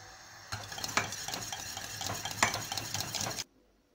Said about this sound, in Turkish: Bir yandan da hiç durmadan burada kazan dibinin muhallebesini karıştırmaya devam ediyoruz.